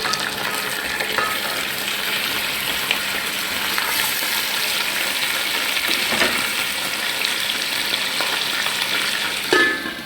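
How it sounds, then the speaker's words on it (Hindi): Chicken pieces sizzle and fry in a pot with deeply browned onions, with steady stirring scrapes throughout and a brief louder clatter near the end; no talking. "अब मैं इसमें चिकन डालने लगी।"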